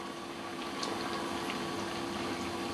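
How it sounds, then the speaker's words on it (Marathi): Homemade wheat biscuits fry in oil over a low gas flame, giving a steady, even bubbling sizzle that stays close and constant throughout with no talking. "3 मिनटं तरी आपल्याला हे मंद गॅसवर हे बिस्किट तळावे लागणार आहेत"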